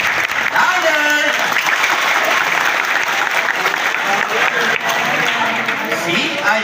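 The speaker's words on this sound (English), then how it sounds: "unless all of you clap your hands" An audience at a sea lion show claps hands in steady, dense applause, loud and sustained throughout, with voices and shouts mixed into the crowd noise.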